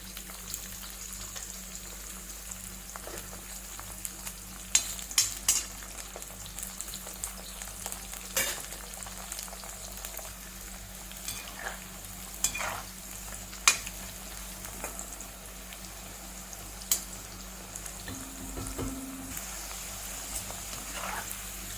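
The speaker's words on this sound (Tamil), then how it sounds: "கடாயில் கொஞ்சம் ஆயில் வச்சு இதை கொஞ்சம் ஃப்ரை பண்ணி எடுக்கலாம்" Bitter gourd fries in oil in a kadai, a steady soft sizzle running throughout with occasional louder crackles and stirring clinks, no voices.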